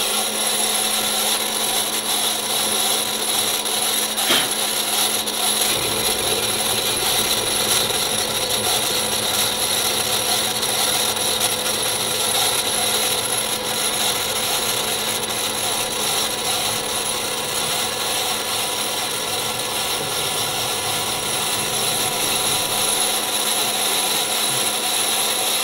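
A milling machine cuts a car engine part for an Audi RS4 2.0 build, milling in two directions with a steady, dense mechanical whir and grinding that runs continuously without pause or talk.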